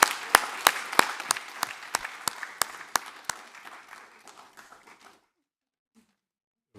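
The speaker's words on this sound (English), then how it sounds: "I'd like us all to give them a big hand of applause." Audience at an African congress gives the staff a hand, sparse clapping punctuated by a series of loud, sharp individual claps close by, thinning out and fading to near silence.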